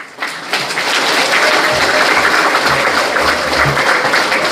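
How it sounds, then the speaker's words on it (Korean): An audience claps warmly to welcome a professor to the stage for a special lecture at a civic group's founding ceremony, loud dense applause building quickly and holding steady throughout. "다시 한번 뜨거운 박수를 부탁드리며"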